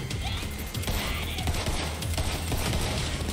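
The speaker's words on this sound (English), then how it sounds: "Psycho, you're not the only one that's shooting" Dense, rapid gunfire bursts in the video game Borderlands 3, loud and continuous through a short chaotic firefight.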